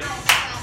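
A single sharp hand clap rings out clearly at a birthday dance, a short bright burst standing alone against a quiet background.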